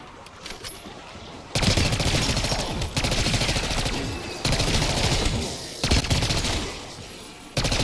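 Sustained automatic gunfire in Black Ops 6 Zombies, loud dense bursts of rapid shots with brief pauses between volleys.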